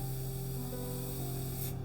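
An Iwata Custom Micron SB airbrush sprays finely reduced paint in a soft, steady hiss that stays even and close for a couple of seconds and then cuts off.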